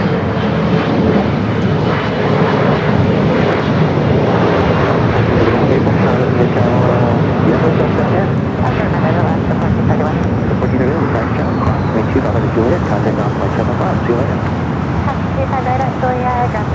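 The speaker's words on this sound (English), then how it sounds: "Let's just watch some planes together." Jet airliners at Los Angeles LAX airport produce a loud, continuous broadband engine roar that holds steady throughout with no break.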